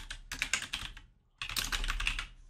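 Quick bursts of typing on a computer keyboard entering a game title, two close runs of crisp key clicks separated by a short pause.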